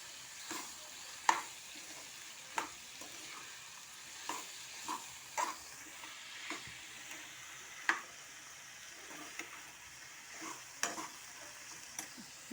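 Onions and cucumber fry in a pan with a constant low sizzle, while a spoon stirs and taps the pan at irregular intervals, each knock short and crisp.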